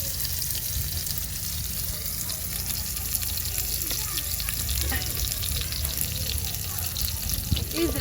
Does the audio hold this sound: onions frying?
yes